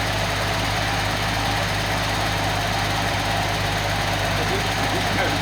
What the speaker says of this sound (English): We'll throttle up a couple times.